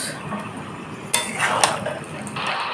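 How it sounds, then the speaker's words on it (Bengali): A utensil scrapes and clinks against a pan while chili chicken gravy with hot and sweet sauce is stirred, with soft sizzling beneath a few sharp metallic knocks. "এই সসটা দিয়ে গ্রেভিটার মধ্যে ভালো করে নাড়াচাড়া করব"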